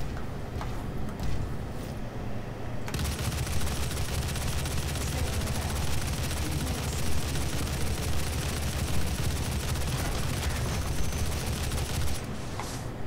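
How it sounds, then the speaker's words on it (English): Heavy assault rifle and plasma cannon fire in the Doom video game, a dense, continuous barrage of loud gunfire and blasts that rolls on for over ten seconds with no talk over it. "Let's get out our heavy assault rifle and our plasma cannon."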